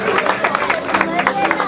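Children and an audience at a kids' Christmas party clap in quick, uneven bursts, a lively patter of hands mixed with crowd chatter and a voice over the top.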